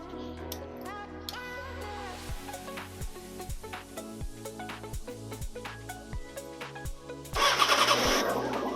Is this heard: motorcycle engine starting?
yes